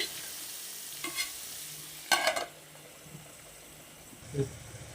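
Stirring and soft sizzling of a potato fry with medium-sized tomatoes in a pan, a few scraping strokes with a louder stir near the middle over a quiet frying hiss, close by.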